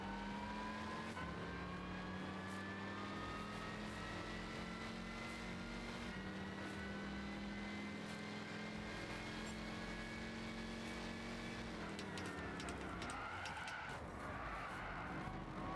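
A Chevy race car in Gran Turismo 6 drives with a steady droning engine note that holds for several seconds, shifts pitch and then revs and roughens near the end, heard alone with no talk.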